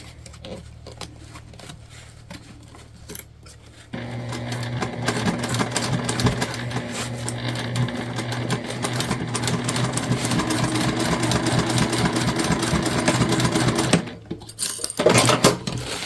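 A sewing machine stitches a large bag, starting after a few seconds of quieter handling and running in a fast, steady whirring rhythm before briefly stopping near the end.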